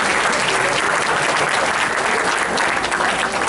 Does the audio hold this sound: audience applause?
yes